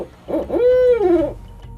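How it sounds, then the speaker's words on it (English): A captive barred owl, an educational ambassador bird, gives one loud, close hoot: a few quick stuttering notes rising into a long drawn-out tone that falls away, heard alone. "out in the wild, barred owls will kind of go, who cooks for you?"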